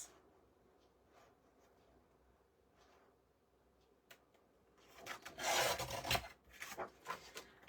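A piece for a handmade book being cut, heard as quiet intermittent scraping at first that grows into louder rasping strokes, close up with no talk.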